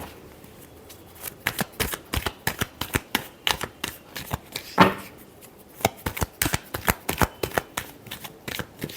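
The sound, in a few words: shuffling tarot cards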